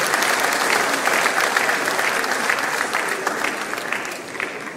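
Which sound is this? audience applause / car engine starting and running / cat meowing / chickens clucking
audience applause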